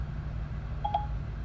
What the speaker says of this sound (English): now it's calling my office line here